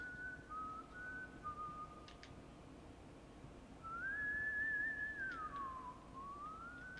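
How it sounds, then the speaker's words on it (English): An enemy character in the school horror game White Day: A Labyrinth Named School whistles a wavering tune, a short phrase followed by a longer, louder sliding melody over a low background hum. "His whistling's so loud."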